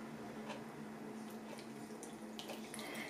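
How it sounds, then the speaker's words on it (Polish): Mushroom soaking water is poured into a baking dish for stuffed young-cabbage rolls, making a faint, steady trickle and splash with no voices. "I tu jest ta woda, w której żeśmy moczyli nasze grzyby."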